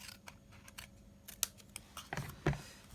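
Scissors cut through designer series paper for a handmade card, a few quiet, close snips and crisp clicks, sharpest near the end, with no speech.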